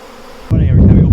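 Bees buzzing loudly and close around an open horizontal beehive, a dense steady drone that grows stronger partway through.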